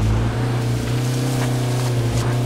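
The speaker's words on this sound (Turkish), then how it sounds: "Turbosu var bu arabanın ha." Turbocharged car engine in H1Z1, a loud steady low drone close up with constant throttle and a faint whooshing hiss over it, no break.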